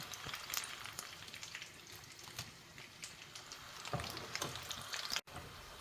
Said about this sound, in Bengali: ভেজে তুলছি এবার রোলগুলো